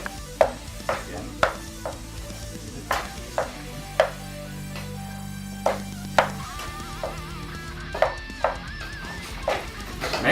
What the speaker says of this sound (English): Put in the pan. We get everything in there. Mix it up.